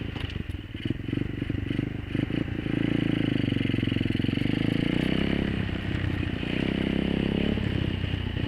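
A dirt bike engine drones steadily and loudly at close range while being ridden through about two inches of snow in 4-degree cold in Kansas, rising in pitch and holding a rough, rattling revving tone throughout.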